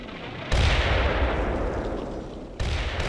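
Artillery fire mission in the Cold War wargame Combat Mission, heavy and medium tubes: a loud rumbling barrage of booming impacts that holds steady, then a second sharp burst near the end, with no talking.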